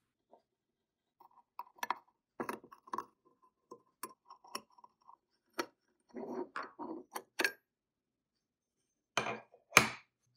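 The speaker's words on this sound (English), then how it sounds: "we have to take off the screws on the back of the filter wheel to get to the inside of the filter wheel" Screws come out of the back of a ZWO filter wheel in a quiet room, heard as sparse, faint clicks and small metallic ticks and scrapes separated by silence.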